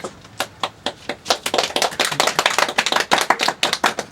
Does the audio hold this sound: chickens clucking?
no